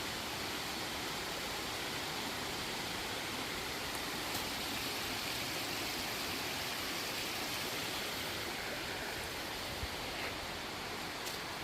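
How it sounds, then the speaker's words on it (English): Steady, broadband rushing of falling water, loud and unbroken throughout, from a 40-foot waterfall on Cucumber Run in Ohiopyle State Park, Pennsylvania, heard from close by. "That's the 40-foot drop waterfall."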